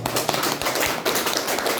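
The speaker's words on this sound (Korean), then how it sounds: "우리 다 같이 대한민국을 위해서 박수 한번 하시기 바랍니다" A church congregation claps together in a dense, close burst of many hands, loud and sustained without a break.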